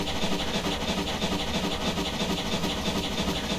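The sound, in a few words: GWR Small Prairie 2-6-2T steam locomotive exhaust, Train Simulator Classic video game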